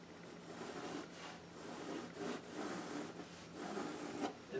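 A marker drawing preliminary lines on paper for a bird sketch makes soft, close, repeated scratchy strokes in short rhythmic bursts, with no talking.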